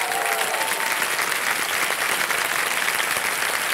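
Studio audience on a TV quiz show breaks into steady, dense applause, loud and continuous throughout with no talk over it.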